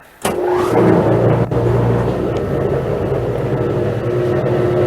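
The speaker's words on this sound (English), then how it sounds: "This pump is pretty quiet. I'm sure you can hear it." A fire department water fill station pump starts with a click and then runs with a steady, low mechanical hum that holds at an even level throughout.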